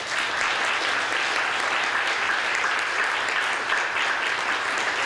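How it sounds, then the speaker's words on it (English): A festival crowd applauds nominees at a hip hop awards ceremony, producing an even, continuous wash of clapping that holds steady from start to finish with no voices standing out. "Please give them a round of applause"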